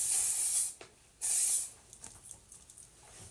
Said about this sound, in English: I like to put a little hairspray on the part to kind of keep that situated.